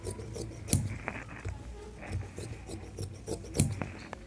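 Scissors snip through blouse fabric and its lining in short, rasping cuts, with a few sharper snips standing out against a quiet background and no voices.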